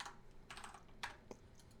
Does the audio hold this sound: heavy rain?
no